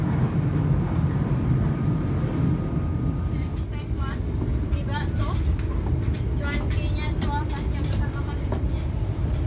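Inside the KA Banyubiru passenger train on the Solo–Semarang line, a steady loud rumble of wheels and carriage fills the cabin, with scattered rattles and clicks and voices talking over it.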